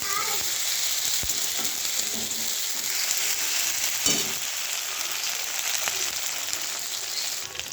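Browned onions with ginger-garlic paste fry in a pan, giving a steady loud sizzle with a few sharp clicks of stirring throughout.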